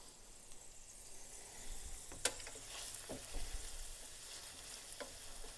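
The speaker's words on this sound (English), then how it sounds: "those onions are cooking" Onions fry in a pan with a quiet, steady sizzle, broken now and then by soft clicks and scrapes of stirring, with no talking.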